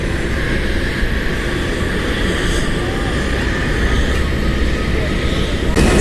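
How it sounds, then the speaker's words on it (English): A Boeing 767 jet taxiing out at Washington Dulles airport, a loud, steady engine roar and whine that holds at an even level throughout, heard from nearby outdoors. "767 taxiing out."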